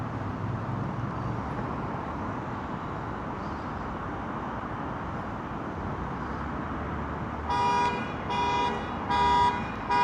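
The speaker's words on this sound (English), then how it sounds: "Whose car alarm is that?" A car alarm starts late, sounding in short repeated electronic bursts over a steady wash of outdoor background noise at Brent Park, London.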